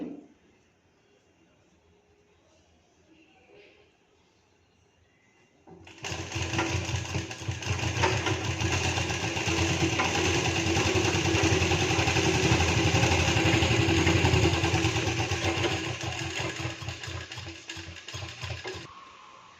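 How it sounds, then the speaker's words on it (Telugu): An electric sewing machine runs steadily for about thirteen seconds while stitching a blouse, loud and close, after a quiet stretch with faint background noise. It stops near the end. "ఇలా ఓపెన్ చేసిన తర్వాత దీనిపై ఒక స్టిచ్ వేసుకోవాలి చూడండి"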